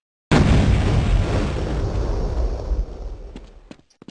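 A pipe bomb satchel charge detonates in the Duke HL video game, a loud sudden boom that rumbles and decays over several seconds, followed by a few scattered crackling debris clicks.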